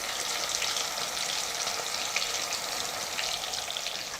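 Fish frying in a pan as a Tamil fish fry cooks, a dense, even, crackling sizzle that holds steady and close for the whole stretch, with no voices.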